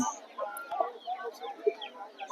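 A rooster at a village livestock market gives short, uneven clucks and low calls close by, with people talking in the background.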